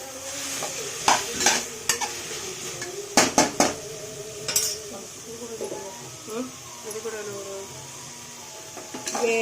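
Vegetables for veg biryani sauté in a pan, a steady sizzle broken by a few loud scrapes and clanks of a spoon against the metal, with faint voices underneath.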